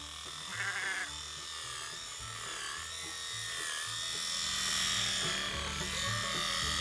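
Sheep bleat on a farm during a sheep working day, Cotswold cross sheep among them, amid a steady mechanical hum resembling an electric shearing clipper; a high bleat comes early over the continuous buzzing.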